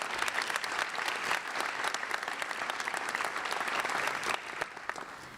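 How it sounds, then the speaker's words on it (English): An audience at a senior scholarship night claps steadily for the award recipients, a dense, sustained round of applause that holds throughout and eases slightly near the end. "Another round of applause."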